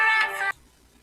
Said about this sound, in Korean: 또 전화 왔네